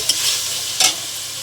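Chicken drops into masala frying in released oil with dried fenugreek leaves. A loud continuous sizzle carries two brief, sharper bursts as the pieces hit the pan.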